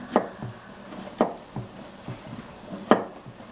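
Vegetables are chopped with a knife on a board for a Korean vegan curry, with a few separate, sharp close cuts spaced unevenly and no talk.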